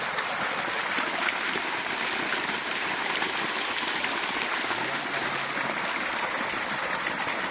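Water gushes steadily from a 3-inch borewell pipe, a constant rushing flow without breaks or voices.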